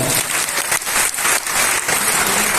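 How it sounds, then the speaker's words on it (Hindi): A loud burst of audience applause at a company event at a Ramada hotel, with thick overlapping claps that briefly dip and swell. "ये जोरदार तालियां फिर से चाहूंगा।"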